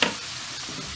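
Potatoes and pork frying together in a pan, a steady broadband sizzle with a brief stirring scrape at the start, close and continuous, with no talking.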